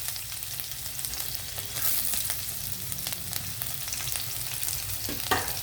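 Ginger and garlic pieces frying in hot oil with shahi jeera, a steady close crackling sizzle that holds throughout with occasional sharper pops and light stirring.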